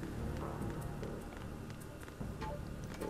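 Rain falls in the video game Metal Gear Solid 2, a dense continuous patter on surfaces that fills the whole stretch at moderate level, with faint voices in the background.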